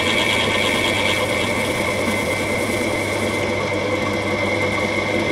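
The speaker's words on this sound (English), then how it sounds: "you can do it with the lathe spinning and just buff it up a bit" A wood lathe spins an old bowl while finishing oil is buffed onto it, giving a steady whirring motor drone with a constant high tonal whine, unbroken throughout with no speech.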